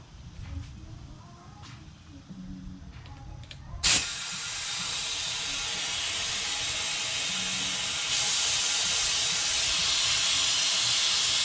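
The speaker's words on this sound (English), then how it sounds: "when I connect this line up, you're going to hear a hissing sound. That is the vacuum building and pulling the vacuum on the cooling system." Steady broadband hiss starts abruptly as a vacuum line is connected and begins pulling vacuum on a vehicle's cooling system, holding loud and continuous, stepping up slightly partway through after a quieter mechanical stretch.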